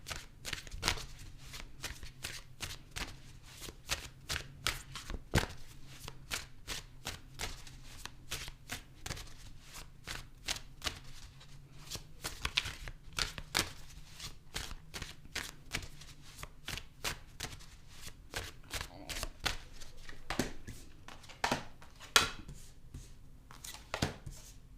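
A deck of tarot cards is shuffled over and over, a long run of crisp riffling flutters and sharp card slaps in quick irregular bursts, close and fairly quiet, with no voices.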